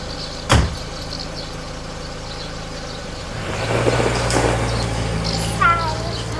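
A car engine idles and runs at a steady low drone while being driven into a parking spot, with a sharp door-like thump near the start, a few faint clicks, and people talking over it.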